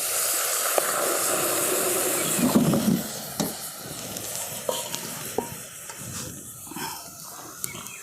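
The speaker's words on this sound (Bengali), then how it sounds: "কড়াতে দিয়ে দিচ্ছি জল" Water poured into a hot wok on a lit stove sets off a loud, steady hissing sizzle that slowly settles into quieter bubbling and crackle, heard up close with no voices.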